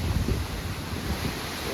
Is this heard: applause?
no